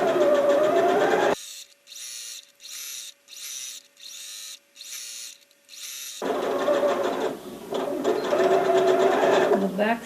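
A sewing machine stitches a quilt for a 4-H project in a run of seven quick bursts with short pauses between, close and fairly loud, with talking before and after the stitching.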